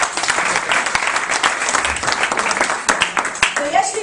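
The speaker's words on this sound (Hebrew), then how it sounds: "מחיאות כפיים" Audience clapping for a speaker taking the stage at a wellness products event, sustained dense applause with sharper individual claps and a voice briefly heard near the end.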